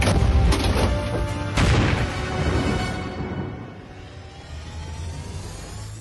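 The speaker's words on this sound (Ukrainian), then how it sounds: "Постріл!" An AHS Krab self-propelled howitzer fires nearby, a loud blast with a sharp crack that rolls away into a long, fading rumble.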